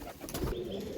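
Rampuri pigeon gives a soft, low coo at close range, brief and alone against faint background noise.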